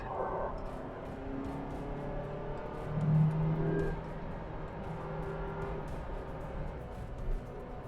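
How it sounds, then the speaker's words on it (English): A 2012 Mazda 3 Skyactiv engine drones steadily at speed with intake roar at high RPM, swelling briefly louder midway, with a constant low rumble and road noise throughout. "You can hear the intake roar at the higher RPM."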